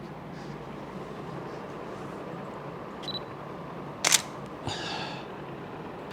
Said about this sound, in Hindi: अब मैं इसको क्लिक करके देखता हूँ कि इसके हमें कैसी इमेज आएगी।